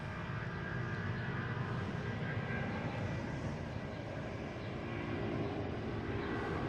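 A Delta airliner bound for Barcelona roars past at Boston Logan, a dense, steady broadband engine rumble that holds loud and unbroken throughout with no voices.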